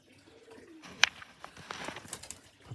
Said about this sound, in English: We've got a kit of 4 up here, young birds.